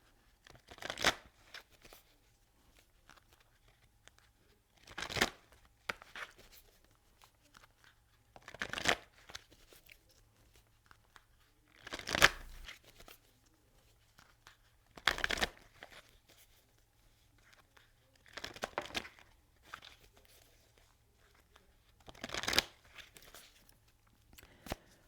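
Cards from an energy oracle deck shuffled and pulled, with about seven distinct riffling bursts spaced a few seconds apart and near-silence between them. The sound is close but faint, and no one speaks.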